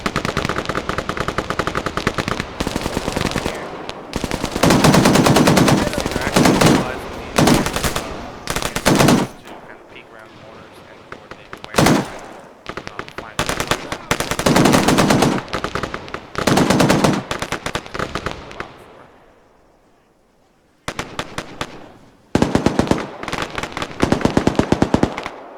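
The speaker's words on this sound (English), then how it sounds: "They're going to try to engage and kill target." Automatic gunfire from Arma with the LAMB Danger.FSM AI mod, Op4 squads moving on an M2 position: loud, repeated bursts of machine gun fire with short pauses, a longer quiet stretch midway, then more bursts near the end.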